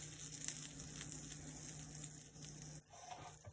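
A pat of butter sizzles and melts in a hot pan that was just used to cook vegetables, a soft, continuous crackling hiss with a faint steady hum underneath.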